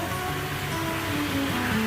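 Water curtain waterfall spilling into a koi pond in Ayutthaya, fed by a large pipe, gives a steady, close, full rushing splash with no pauses.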